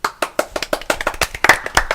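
A live show audience claps for guests, sounding as distinct, close individual claps in a quick, uneven rhythm rather than a blended roar.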